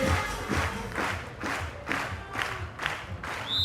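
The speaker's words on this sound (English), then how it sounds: "The crowd pumping up the volume." Spectators cheer and roar during a women's beach volleyball final between China and the United States at the Åland PAF Open 2011, with a loud sustained crowd swelling in repeated waves and a whistle near the end.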